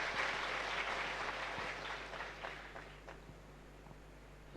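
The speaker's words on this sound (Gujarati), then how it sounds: "બાપુને જોરદાર તાળીઓથી વધાવીએ" A temple congregation applauds to welcome a swami before his discourse, a full burst of clapping that gradually thins out and fades to scattered claps.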